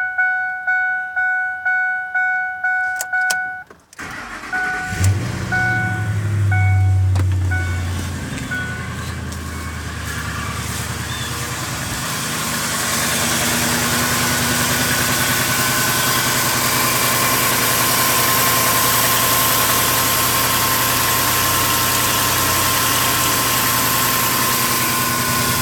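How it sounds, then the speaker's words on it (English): A high-mileage car engine running on full synthetic oil cold-starts: a rapid rhythmic starter crank, a sharp catch, a brief revving surge, then a steady close idle that holds for the remainder. "let's go ahead and start this vehicle up like I said we do, and see how it sounds with the full synthetic oil"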